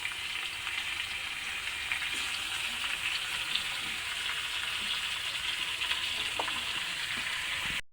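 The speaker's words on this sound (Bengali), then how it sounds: "এটাকে ভালো করে কষছে, অনেকক্ষণ ধরে কষতে হবে" Chicken being sautéed (kosha) in a pan gives a continuous, even sizzle with occasional soft stirring scrapes, close and fairly quiet.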